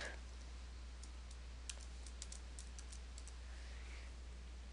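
Light, scattered keystrokes on a computer keyboard during spreadsheet entry, faint and sparse over a steady low hum, with no one speaking.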